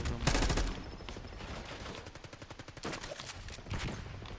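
In Call of Duty Black Ops 6 multiplayer, a weapon fires rapid automatic bursts, the shots pulsing in quick, even rhythm with short breaks between them, fairly faint overall.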